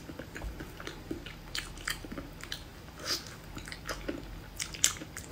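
Someone biting and chewing braised pork belly with thin skin, soft close-up crunches and wet chewing clicks scattered through the clip, fairly quiet with no talk.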